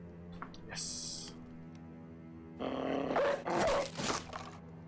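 War dogs in the video game Battle Brothers snarl and growl, with rough bursts of barking and roaring in a clash. Speech is heard in the mix.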